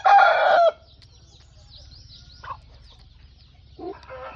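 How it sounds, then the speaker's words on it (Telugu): A rooster bred for the Ugadi festival lets out a loud, close crow at the start, followed by quiet farmyard background and a couple of short clucks near the end. "డ్రాలో పెట్టిన కోడి పుంజు అయితే ఇది."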